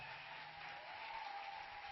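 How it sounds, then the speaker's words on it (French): A church congregation at a Sunday service in Douala, Cameroon applauds steadily, a dense, even wash of clapping from a crowd throughout. "Can you clap for the Lord?"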